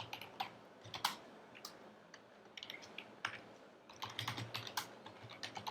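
Someone types on a computer keyboard while writing Java TestNG test code, with quiet, quick irregular key clicks in bursts and brief pauses, close but soft.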